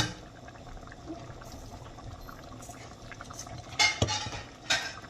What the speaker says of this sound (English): And we're just going to stir it